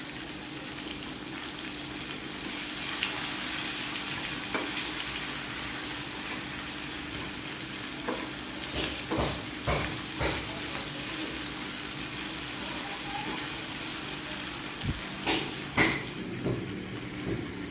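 Okra and potato sabzi frying in a pan, a steady low sizzle with scattered scraping and clinking as it is stirred, the knocks bunching up toward the end.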